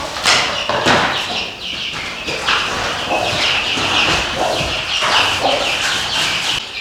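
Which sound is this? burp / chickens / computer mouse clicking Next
chickens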